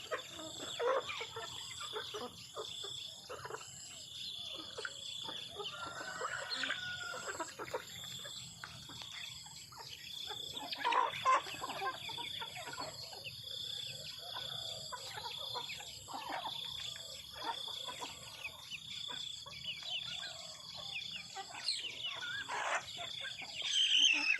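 Chickens cluck and peck busily around morning feed, a scatter of sharp clucks and squawks near and far, with an occasional crow and quiet human murmuring in the background.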